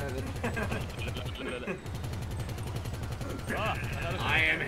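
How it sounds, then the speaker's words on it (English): An anti-aircraft gun in GTA V Online fires in rapid, steady bursts, its low thumping pulses running through most of the moment with a pause near the middle, mixed with other game noise and a voice talking. "Good thing I have an anti-aircraft gun."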